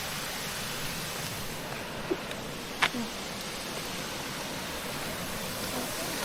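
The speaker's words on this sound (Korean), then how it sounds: "여기 옆에도 폭포 있어요." Waterfall beside a scenic trail near Seorak Skywalk in Sokcho, heard as a steady, broadband rushing wash of falling water, fairly distant and even, with a couple of brief faint knocks over it.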